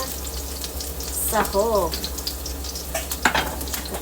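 Ingredients sauté in a hot pan with garlic for Filipino-style beef steak, giving a steady fry and sizzle under brief stirring clatter. Someone speaks briefly over the cooking.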